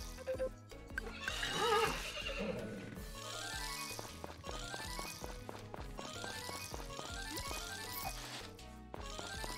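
A horse in the farming game Story of Seasons gives a loud whinny near the start, followed by clip-clopping hooves over cheerful background music.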